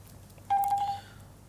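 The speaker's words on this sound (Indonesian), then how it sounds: "Oh, ada telepon." A single short electronic telephone tone signals an incoming call, a clear steady pitched beep of about half a second over a quiet low hum.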